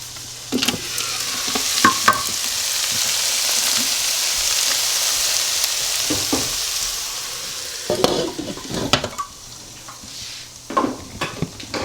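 Vegetables for a vegan vegetable soup sizzling in a pot, a broad steady hiss with spoon scrapes and stirring clatters near the start and again toward the end, close and fairly loud.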